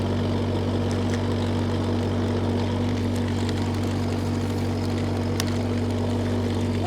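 A Groundhog KH25D-2 mini-excavator drones steadily up close as its body swings round, a loud, even engine hum with a low tonal whine holding throughout and no voices.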